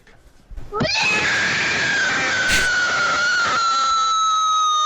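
A loud, sustained screaming wail from a meme, catlike and strained, rising in from near silence and then holding steady at full volume for several seconds without any speech.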